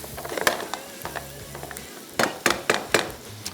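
Onion and garlic sauté gently in a pan, giving a low sizzle with scattered scrapes and clicks of stirring and a run of sharper, louder taps near the end.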